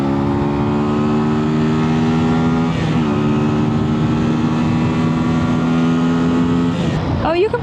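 Cruiser motorcycle accelerating on the road, its engine revving up steadily through a gear with rising pitch, a brief drop at a gear change, then climbing again, close and loud.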